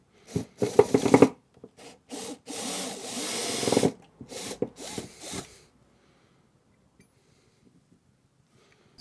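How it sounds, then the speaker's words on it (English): Screws being backed out of a wooden workpiece with a hand tool: several bursts of close, loud scraping and rubbing over the first five seconds, then near silence. "we will unscrew."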